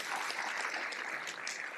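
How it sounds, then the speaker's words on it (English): A crowd claps steadily, a dense, even patter of applause filling the room without a break. "Give him a round of applause."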